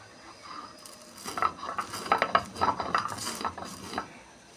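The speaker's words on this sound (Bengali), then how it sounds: "যে মশলাগুলো আমি ভেজে রেখেছিলাম মৌরি, ধনিয়া, জিরা, সেগুলো আমি এখন বেটে নেব" Dry-roasted fennel, coriander and cumin seeds are ground for a mango pickle. Irregular clinks and scraping knocks build in the middle, then thin out again, fairly close.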